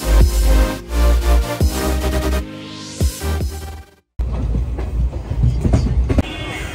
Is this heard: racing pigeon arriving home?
no